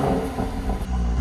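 A Mercedes GLC 43 AMG's V6 engine revs loudly up close, a deep throaty roar that swells and surges for a brief moment.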